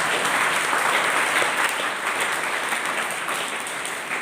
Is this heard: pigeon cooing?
no